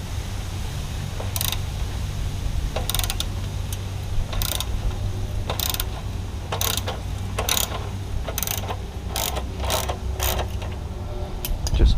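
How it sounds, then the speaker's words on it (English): Ratchet wrench loosening a bolt on a Kawasaki Z900 exhaust during a Pro Race GP-S1 slip-on install, giving repeated bursts of close, sharp clicking over a steady low hum with no talk. "So now, loosen this bolt."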